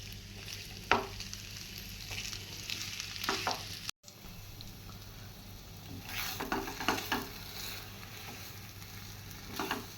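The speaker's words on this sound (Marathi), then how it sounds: "हे स्टफिंग आपण छानपैकी असे परतून घेऊया" Potato vada stuffing coated in spice masala sautés in a pan, with a steady low sizzle broken by repeated scraping stirs of a spoon against the pan, close and clear with no talking.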